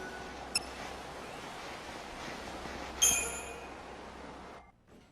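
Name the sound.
train at a station in the video game Lightning Returns: Final Fantasy XIII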